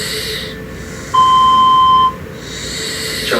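A phone line plays a single voicemail tone after an unanswered call: one clean, steady electronic beep lasting about a second, clear and fairly loud over faint line hiss, with nothing else around it.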